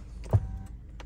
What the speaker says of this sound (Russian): Электрорегулировка руля.